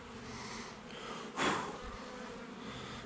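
Honey bees from a caught swarm hum in a soft, continuous drone around the swarm queen, with one louder close buzz as a bee passes near before the faint hum resumes.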